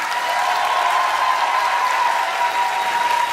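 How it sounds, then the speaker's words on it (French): Applause from the audience at a Game of Thrones panel at Paris Manga, honouring actor Ian McElhinney; a dense, even wash of clapping from a large hall, loud and continuous with a faint steady tone running underneath. "une salle d'applaudissements pour Monsieur Ian McElhinney"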